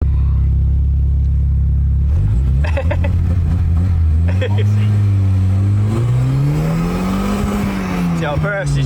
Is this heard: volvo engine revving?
yes